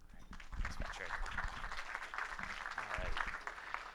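An audience claps to welcome a speaker to the stage at a talk, with steady applause throughout and a few voices mixed in.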